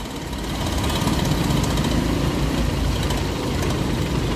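A Honda Unicorn 150 motorcycle engine idles close by while its idle speed is being adjusted, a steady low, loud, continuous rumble with no talking over it.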